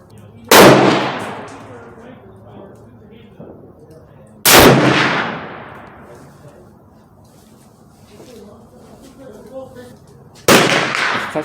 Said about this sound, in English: Now due to ammo shortage, I'm just going to take 2 shots at 25 yards,